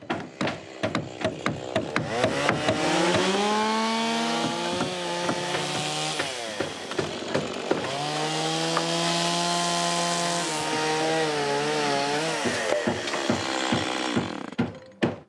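A chainsaw cutting wood after wildfires, with short revving bursts at the start, then two long, strained cuts at full throttle, and more choppy revs and idling pops at the end.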